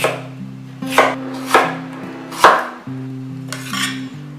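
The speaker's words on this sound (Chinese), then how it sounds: "鸡芹斜刀切片" A knife slices celery on a cutting board at an angle, giving five distinct crisp chops at an uneven pace over soft background music.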